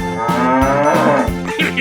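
A bull moos in a 3D animal slide game, a loud, drawn-out bellow with several rising and falling pulls that fills the whole moment on its own.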